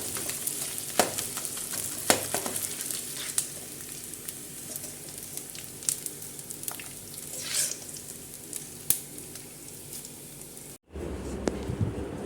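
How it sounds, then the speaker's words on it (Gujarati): Edible gum (gund) fries in hot ghee with a continuous crackling sizzle, broken by sharp pops and stirring scrapes. Near the end the frying briefly cuts out, then returns more muffled. "આમાં હું છે ને થોડો ઘી નાખ્યું છે અને આમાં ગુંદ તળી"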